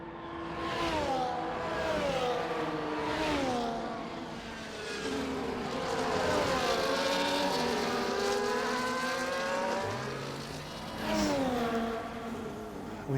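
A Ferrari race car engine in a Monaco racing video game, revving and shifting up and down in repeated loud sweeps, with the pitch rising and falling throughout the clip.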